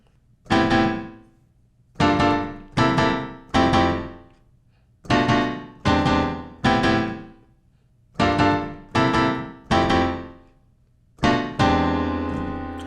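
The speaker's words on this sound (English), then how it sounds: "The chord progression sounds like this." Jazzy hip-hop keyboard chords in a 6-5-1-4-7-3 progression, struck in clean rhythmic groups of two or three with short gaps and a longer final chord left ringing, loud and close with no talking.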